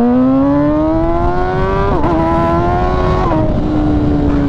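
An MV Agusta Brutale 1000 RR motorcycle engine being ridden at the Nurburgring, loud and close, revving steadily upward, with a sudden cut and dip in the revs twice before it climbs again.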